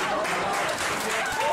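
Wrestling crowd applauding at a live event, a brief burst of dense clapping over a general crowd murmur.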